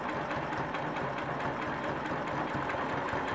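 A sewing machine stitches across a quilt row, a fast steady chattering hum of the needle running continuously and close, with no voices.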